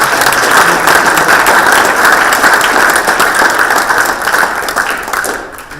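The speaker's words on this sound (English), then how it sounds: "big round of applause for Jennifer" An audience at the 2017 Highland City candidates debate gives a loud, full round of applause, many hands clapping steadily for several seconds before gradually fading.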